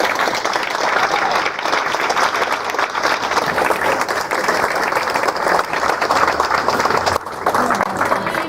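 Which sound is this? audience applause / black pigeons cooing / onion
audience applause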